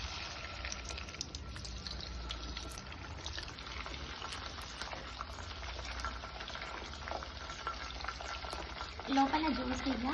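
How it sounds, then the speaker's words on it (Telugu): Chicken pakoda pieces frying in hot oil, a steady close sizzle and bubbling crackle that holds for the whole stretch and swells slightly near the end. "ఆయిల్ హీట్ చేసుకొని చికెన్ పీసెస్ అయితే వేసుకున్నాను."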